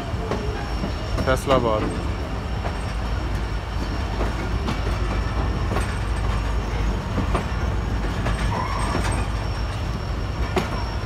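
Train approaching platform 3 at Karachi station, a loud continuous rumble with rattling carriages and occasional clanks, while someone speaks over it.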